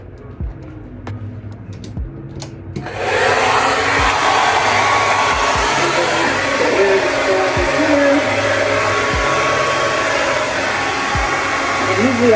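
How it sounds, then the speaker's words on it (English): A handheld hair dryer switches on after a few quiet seconds of clicks and thumps, then blows with a steady, loud whooshing roar. "And turn your dryer on."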